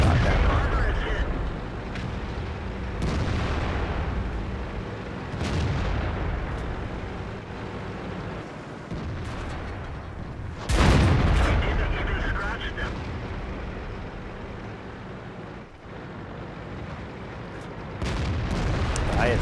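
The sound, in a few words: tank gunfire in World of Tanks video game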